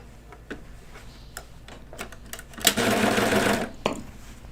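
A sewing machine stitches kid's pajama bottoms with a scatter of small ticks and clicks, then a brief loud whirring run of stitching near the end, close by and without talk.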